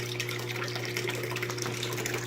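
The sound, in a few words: water flowing as aquarium water flow starts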